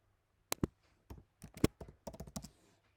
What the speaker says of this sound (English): Type name for your folder. I'm gonna type Hello World.